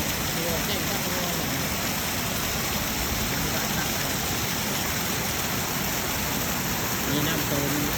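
A waterfall at Kaeng Tao Ngoy near Ban Tango, Thailand, gives a loud, steady rush of falling water that fills the whole clip without a break.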